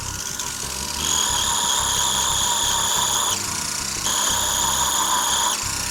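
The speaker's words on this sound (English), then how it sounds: "these steel wheels really help get down inside of the pits a little bit more and clean out the pits" Power drill spinning a steel wire wheel against pitted, rusty metal from a VZ-52 rifle restoration, a loud continuous whine with a bright rasping scrub that shifts pitch slightly as pressure changes, close and uninterrupted.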